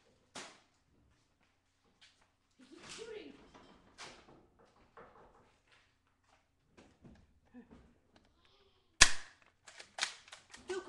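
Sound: gunshots in the video game Left 4 Dead

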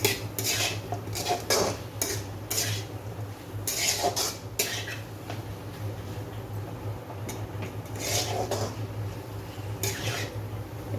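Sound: potatoes being stir-fried with spices in a pan

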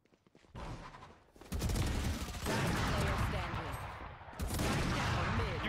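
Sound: gunfire in Valorant video game

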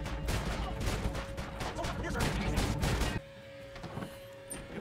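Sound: gunshots in Red Dead Redemption Online video game

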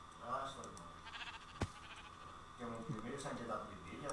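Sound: sheep bleating in a video game (Minecraft)

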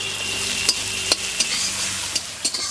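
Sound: chopped onions frying in pan

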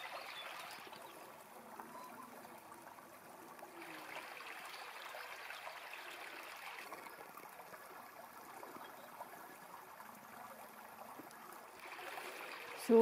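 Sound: water splashing and trickling in a stream

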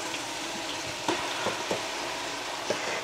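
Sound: onions frying with garlic and ginger paste

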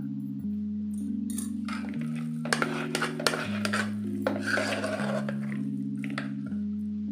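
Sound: mashing cooked rice with a masher

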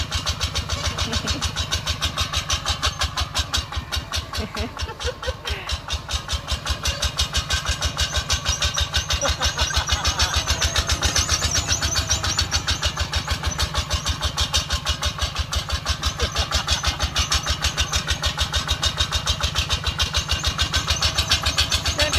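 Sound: tractor engine starting

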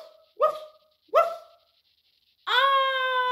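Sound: dog barking

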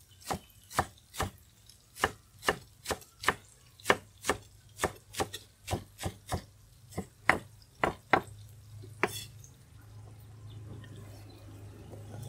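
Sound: knife chopping lettuce on cutting board

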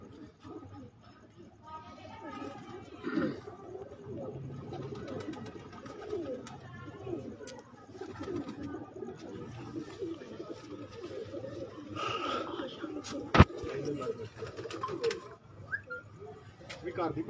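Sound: pigeons cooing

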